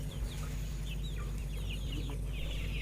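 Free-range village chickens kept in a backyard coop cluck in short, scattered calls over a steady low hum, fairly close and with no voices.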